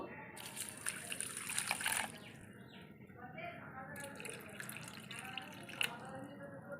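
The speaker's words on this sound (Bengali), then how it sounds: "এবার এর মধ্যে জল ঢেলে দেবো।" Water poured into a bowl of crushed sugar and tamarind set to soak, splashing and trickling close by in a brief pour followed by softer dribbling, with a voice speaking over it.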